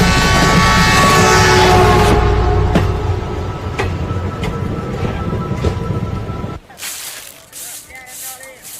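A passenger train headed to Macharla rumbles loudly with a steady roar and clattering, then drops away abruptly to a quieter interior background near the end.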